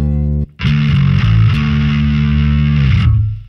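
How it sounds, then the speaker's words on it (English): A distorted bass guitar plays a gritty, sustained low riff with a buzzing, saturated edge, loud and close, trailing off at the end. "Or using distortion?"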